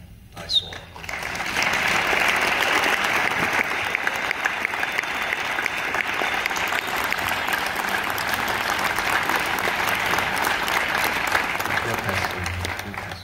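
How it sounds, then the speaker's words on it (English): A dense, continuous roar of applause from a crowd at the Sundance 2023 world premiere of the film Eileen, loud and sustained for over ten seconds before easing slightly at the end. "these women should be applauded for what I saw"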